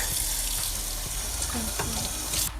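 Water runs steadily from a kitchen tap into a sink and jar while cooking, a soft continuous hiss that stops abruptly near the end.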